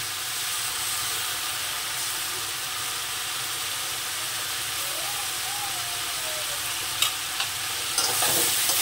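Ash gourd sizzles in a pan with grated coconut and poppy seed paste, a constant close frying hiss with a few clinks of a stirring spoon near the end.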